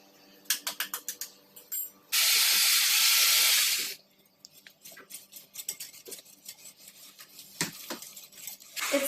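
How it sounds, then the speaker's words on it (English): Egg whites beaten by hand in a bowl, with quick clinking strokes of the whisk against the dish in bursts, a loud broad rushing hiss for about two seconds, and then lighter scattered taps and scrapes. "we are gonna do egg white whisking"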